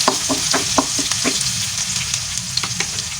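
Garlic sizzling and crackling in hot cooking oil, a steady frying hiss broken by scattered pops and stirring clicks, close and fairly loud with no talking.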